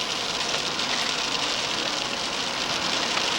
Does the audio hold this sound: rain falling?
yes